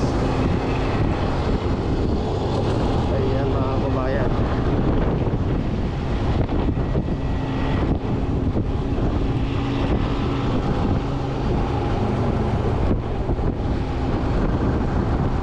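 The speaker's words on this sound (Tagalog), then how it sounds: "napakalakas ng hangin dito pag ayan" Strong wind buffeting the microphone in a constant roar on a bridge in Pasay, Manila, with a low rumble of traffic beneath and a brief spoken phrase.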